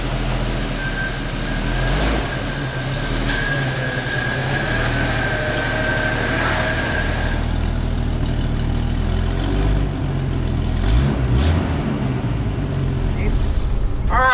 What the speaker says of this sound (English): we're going to take the old Super YJ out for a little test drive here